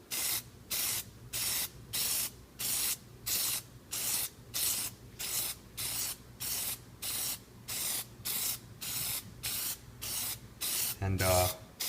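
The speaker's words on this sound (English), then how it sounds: "and you're just going to spray it over." Gunmetal gray Plasti Dip hisses from an aerosol spray can in a steady run of about two dozen evenly spaced short bursts, close and alone, ending with a brief rattle.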